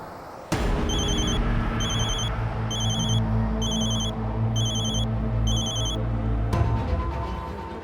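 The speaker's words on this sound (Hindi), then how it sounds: "जरूर ये उस ब्लैकमेलर का फोन होगा।" A telephone rings in a series of six evenly spaced electronic trills, loud and close, over a low background hum, then stops abruptly.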